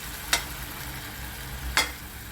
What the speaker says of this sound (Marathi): आपले टोमॅटो पूर्ण मॅच झालेला आहे त्यात आपला हा मसाला पूर्ण टाकायचा आहे